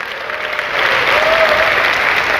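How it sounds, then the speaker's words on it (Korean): Seminar audience at the JUMP UP K STADIUM event claps together, a dense, continuous round of applause that swells louder after the first second and holds steady. "꼭 하시겠다는 박수 한번 쳐주세요."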